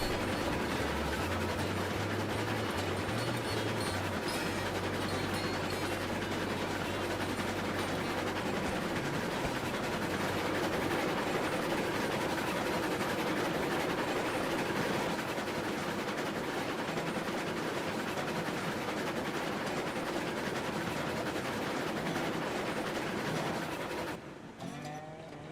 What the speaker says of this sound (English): You can finally shut down the engine noise a bit.